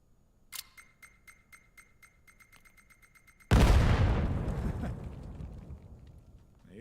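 A grenade explodes in the VAIL VR shooter, a sudden loud boom that rolls into a long decaying rumble, preceded by a string of light mechanical clicks.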